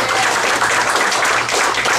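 Comedy club audience clapping at a stand-up show, a dense, steady wash of applause filling the room at full volume from start to finish.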